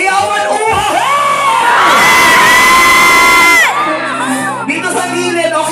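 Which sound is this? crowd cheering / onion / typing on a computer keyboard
crowd cheering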